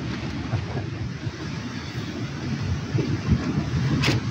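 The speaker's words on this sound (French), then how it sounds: "Il y a des belles bourrasques et ça tient." Rough, rumbling wind on the Larzac plateau buffets the microphone in uneven gusts, building slightly toward the end, with no voices.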